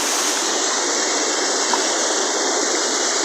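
Heavy rainwater rushes down a street, a steady broadband roar of flowing water, loud and continuous without speech.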